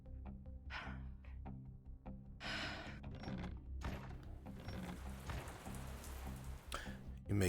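Rain pours down on a rooftop in a role-play game world, a continuous hiss of drops on surfaces mixed with scattered clicks and bursts, fairly quiet throughout.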